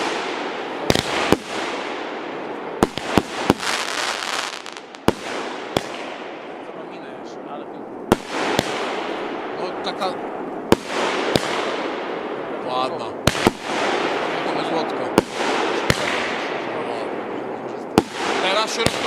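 Gigant 38mm fireworks launch with sharp thumps and burst high overhead in repeated loud cracks spaced every second or two, trailing a long fading hiss, while people chat nearby.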